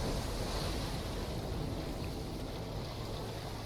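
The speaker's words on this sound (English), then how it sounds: "So what we're going to do is release that water, and all that water will drain out" Rushing, roaring water as released flood water drains out of a chamber in the Darksiders video game, a steady broadband wash with no pauses, moderately loud.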